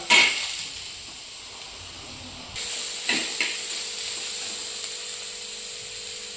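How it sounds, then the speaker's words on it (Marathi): Chopped onion frying in hot oil in a home kitchen, for a Maharashtrian-style crab curry: a steady sizzling hiss that jumps louder partway through, as if stirred or more onion goes in, with a few short clatters, and no talking. "आता कांदा तळते खेकड्याच्या पोटातल्यासाठी"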